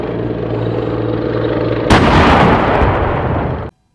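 Toy battle tank firing, a sudden loud broadband burst of simulated cannon and gunfire that cuts in after a steady background hum and runs about two seconds before stopping abruptly.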